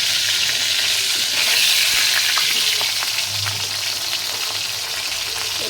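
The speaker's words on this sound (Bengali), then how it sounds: "মাছটা কিন্তু একদম লাল করে ভাজবো" Fish frying in hot oil in a pan, a close, steady, loud sizzle with faint crackles throughout and no voices.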